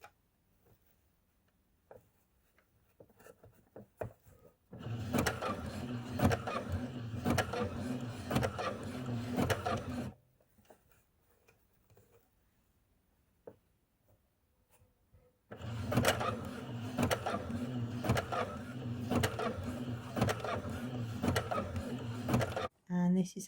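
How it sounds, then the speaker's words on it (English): A domestic sewing machine zigzag-stitching over a cord on skirt fabric, running in two long, steady motor bursts of about five and eight seconds, close and fairly loud, with quiet pauses between them. "And then I'm going to zigzag over the cord"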